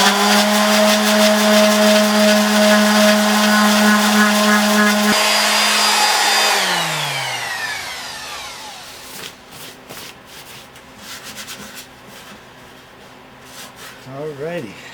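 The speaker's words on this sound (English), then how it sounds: "Let's sand this." A power sander works a decorative end graft, running steadily and loud for several seconds, then spinning down with a falling pitch. Scattered handling noises and light rubbing follow.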